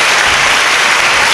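A church congregation claps together in a loud, continuous wash of hand claps, dense and unbroken, filling the space with no voices on top.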